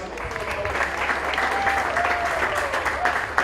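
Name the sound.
audience applause for polo teams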